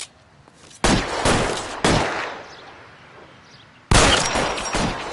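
Sharp gunshots in the game LA Noire crack out in three loud, close bursts, each followed by a ringing decay, with quieter gaps between them and no talk over the shots.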